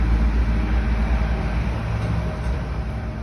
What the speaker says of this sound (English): Right near the street, so we have our trucks going by here in Spot.